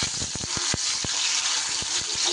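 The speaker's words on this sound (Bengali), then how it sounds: "এবার আমি কচুগুলোকে একটু ভাজা করে নেব।" Taro pieces go into hot salted rice bran oil, producing a loud continuous sizzle broken by several sharp spattering pops.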